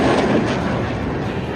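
A loud, continuous roar of rocket fire and explosions from Hamas rockets launched out of Gaza fills the whole short stretch without a break.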